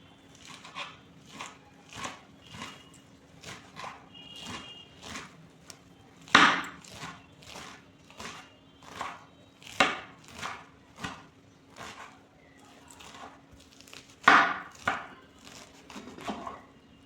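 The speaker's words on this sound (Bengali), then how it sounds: "এবার পাতাগুলোকে খুব ছোট ছোট করে কেটে নেব।" Bottle gourd leaves being finely chopped with a knife on a board, a steady run of crisp, close blade strikes with a few heavier thumps, no voices.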